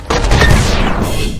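A tank firing in a TABS battle, one loud booming blast that hits sharply and then trails off over about a second.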